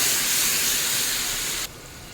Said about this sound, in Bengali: রসুন হালকা ভাজা হলেই এর মধ্যে দেবো পেঁয়াজ টমেটোর পেস্ট। একটু ভালো করে ভাজতে থাকবো।